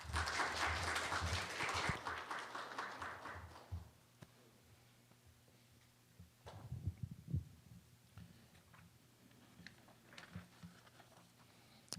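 Large audience applauds at a North Korean human rights forum in Korea as the Vice Minister of Unification is welcomed to the stage, dense clapping for about four seconds before fading to a quiet hall with scattered thumps.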